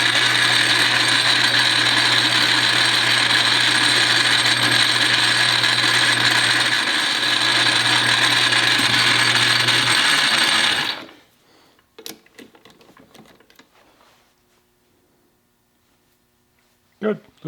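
Small screws being polished in stages with 180, 220 and 320 grit paper, giving a loud, steady mechanical whirring hum for about eleven seconds before cutting off to near silence with a few faint clicks and handling noises.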